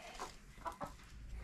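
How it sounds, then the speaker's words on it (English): Soft, scattered chicken clucks come in a few short bursts over a low, steady background rumble, fairly close but quiet. "there the chickens go"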